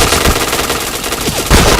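Video game shooter gunfire, loud close bursts of automatic fire with a sharp, heavy blast near the end and no talking.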